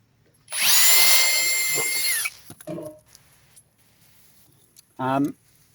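A power drill with a sharp bit whines loudly for about two seconds while drilling through a round downpipe, then stops; brief talking follows.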